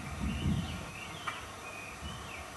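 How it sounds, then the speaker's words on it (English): Thin, high notes of a meadow bunting sound faintly in short phrases over a low rumbling background, distant and repeated a few times. "Ah, there was a meadow bunting."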